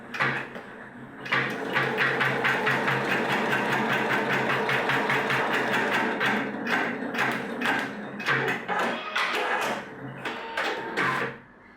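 A Husqvarna Topaz 25 embroidery machine stitching nearby, a fast, steady mechanical rattle of needle strokes that breaks into a few irregular clacks and thumps as the thread is cut near the end.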